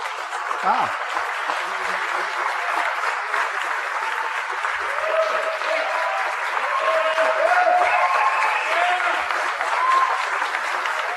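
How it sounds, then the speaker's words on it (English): Sustained crowd applause at a tax plan speech in 2015, with members of the press joining the clapping, dense and steady for the whole stretch, with faint voices mixed in. "some of the press was actually clapping"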